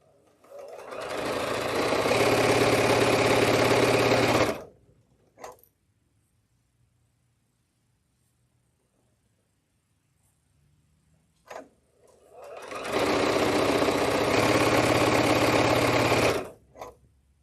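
A sewing machine stitches fabric in two sustained bursts of steady, rapid mechanical whirring, close and loud, separated by a long quiet pause with a couple of small clicks.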